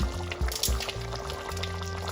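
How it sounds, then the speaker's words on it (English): Water pours into a pot of simmering Uziza soup, a brief liquid splash over a low steady hum, close and fairly loud for about two seconds. "I'm going to pour in some water to get the texture that I like"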